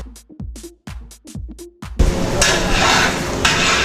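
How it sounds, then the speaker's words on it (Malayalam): Green chillies, ginger and curry leaves are stirred in a large pot for a big batch of samosa filling: a few sharp metallic clanks of the spoon, then a loud, steady sizzle of frying close by. "ചെറുതായിട്ടൊക്കെ ഒന്ന് ഇളക്കി കൊടുക്കുക."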